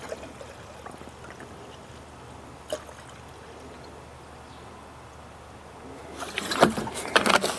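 Coolant poured into the cooling system of a Chrysler 200 with an overheating and leaking fault, a low trickling gurgle under faint background noise that swells near the end into louder splashing.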